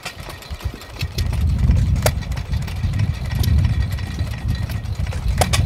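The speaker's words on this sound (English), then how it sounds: "Then it was converted over to a gas engine in the 20s." An antique well drilling machine from 1890, first steam powered and later converted to a gas engine, runs at a farm's antique machinery show with a steady low chugging and periodic sharp knocks and clanks repeating throughout.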